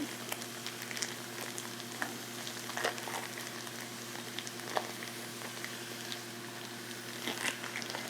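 85% lean ground hamburger meat sizzles and crackles steadily in a pan, close and continuous with occasional pops and faint stirring taps, over a low kitchen hum and with no talking.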